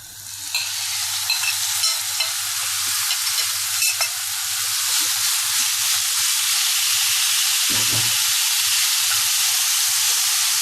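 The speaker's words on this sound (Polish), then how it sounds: "wylewam teraz niewielką ilość oliwy z oliwek. podsmażam na niej mięso." Meat frying in a small amount of olive oil in a pan over high heat gives a loud, continuous sizzle that builds and holds steady, with a low background hum and a brief clatter of utensils near the end.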